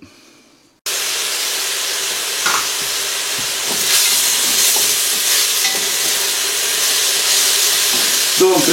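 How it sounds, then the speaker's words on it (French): Onions hit hot olive oil with curry, ginger and turmeric in a pan and burst into a loud, steady sizzle that keeps hissing, with a few clinks of stirring, close by. "peu d'huile d'olive, on va faire revenir les oignons."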